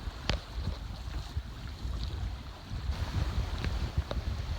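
A sailboat runs downwind under genoa in a force 4 breeze off the Greek island of Ikaria, with steady wind rush over the microphone, low water wash against the hull and occasional creaks and knocks, continuous throughout.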